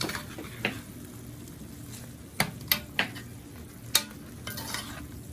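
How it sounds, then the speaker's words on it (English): A spoon stirring a pot of plantain and steak bites over the heat, soft sizzling underneath with a handful of sharp scraping clinks against the pot, scattered irregularly, no talking. "Give this a stir, and then we're done"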